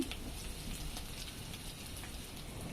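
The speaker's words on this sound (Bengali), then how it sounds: "পানি দিয়ে দিলাম" Water poured into a hot pan of fried ginger and garlic paste for a Bangladeshi shrimp curry with potato and stalks, giving a steady, hissing, rain-like sizzle that stays even and fairly loud throughout.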